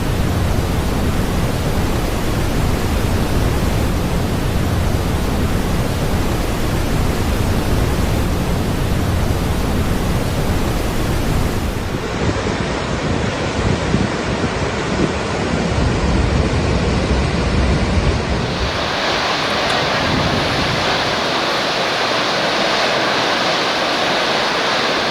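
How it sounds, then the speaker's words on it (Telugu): Gokak waterfall on the Ghataprabha river in Karnataka's Sahyadri hills roars with a dense, continuous rushing of falling water, loud and steady throughout, with no voices. "సహ్యాద్రి పర్వత శ్రేణుల్లో ఘటప్రభ నదీ ప్రవాహంలో ఈ అద్భుతమైన గోకాక్ జలపాతం"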